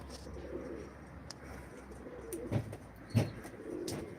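Pigeons at a live pigeon auction coo softly in low throaty bursts, a couple of clearer calls standing out over a faint background hum, no voices.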